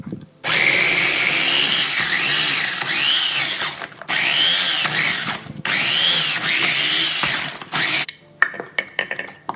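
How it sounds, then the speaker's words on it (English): A small electric kitchen chopper mincing ground turkey runs in several whirring pulses of a few seconds each, loud and close, with short pauses between them and a few clicks and clatters at the end. "put it in the little machine, and press the button a few times until I find the right consistency"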